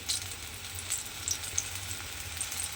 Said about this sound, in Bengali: সমস্ত পিঠেগুলো আমি এইভাবে সুন্দর করে ভেজে নেব